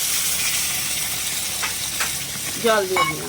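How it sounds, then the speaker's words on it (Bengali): Loud, continuous sizzling and hissing as water hits frying pointed gourd in a hot pan, with a few stirring scrapes and a voice speaking briefly near the end. "এইবার পটলের ভিতর একটু জল দিয়ে দিলাম,"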